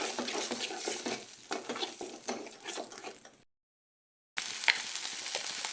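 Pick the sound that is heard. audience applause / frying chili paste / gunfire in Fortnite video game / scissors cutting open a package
frying chili paste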